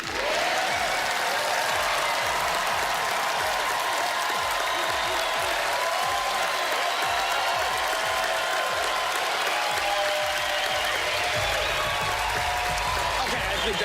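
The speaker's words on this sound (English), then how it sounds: "the louder everyone here claps and cheers, the more fuel we will add." Loud, continuous clapping and cheering from a large studio audience at a televised magic show, a dense unbroken roar of hands and voices lasting the whole stretch.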